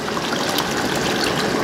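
Water poured steadily into a bowl of food mixture, a continuous close, loud gushing splash with no break.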